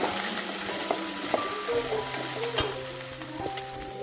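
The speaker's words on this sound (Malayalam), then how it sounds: "അപ്പം നമ്മളിതിൽ വെളുത്തുള്ളി, ഇഞ്ചി ഇട്ട് കൊടുത്ത് നന്നായി ഇളക്കാം" Garlic and ginger sizzling in hot oil in a pan while being stirred for an egg curry, soft steady frying with light scraping clicks of the spoon, close and fairly quiet.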